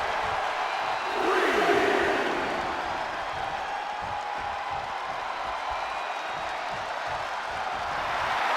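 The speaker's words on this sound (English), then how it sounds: "The sound of this crowd is deafening, and he's asking for more." Video game wrestling arena crowd roaring in a sustained, dense wash of cheering, swelling loudest early on and then holding steady as a broad distant din.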